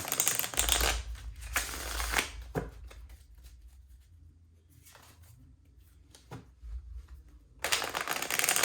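Tarot cards being shuffled in several riffling bursts, close and crisp, with quieter handling sounds and pauses between the shuffles.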